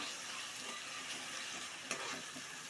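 Garam masala, ginger paste and chili are stirred into a sizzling crab curry, giving a faint, steady frying hiss with light scraping of the stirring.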